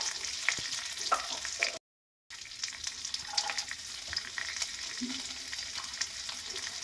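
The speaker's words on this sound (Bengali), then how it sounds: "আমি এখানে পাঁচটার মতন কাঁচা লঙ্কা কুচিয়ে নিয়েছি এবার সব কিছু ভেজে নেবো ভালো করে" Chopped green chillies fry for semolina upma in a pan with a steady crackling sizzle and occasional spoon scrapes, interrupted by a brief gap of silence, close and without speech.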